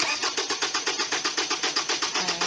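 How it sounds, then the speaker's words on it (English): Car engine cranking on its starter during a starting system test, a loud, close, steady rhythmic churning of rapid even pulses that never catches, running throughout. "you're gonna crank the engine for 15 seconds"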